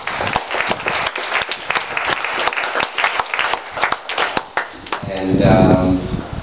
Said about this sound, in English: Let's clap our hands for them.